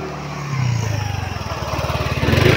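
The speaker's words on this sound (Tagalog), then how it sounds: "yan may dadaan pang motor" A motorcycle approaches along a road in Barangay San Vicente, Gumaca, Quezon, its engine growing louder with a steady pulsing rumble as it nears and passes close by.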